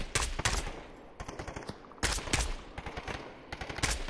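Enemy gunfire in the VR shooter Onward, with repeated sharp bursts of automatic fire that come in uneven clusters and separate shots spread over several seconds, moderately distant.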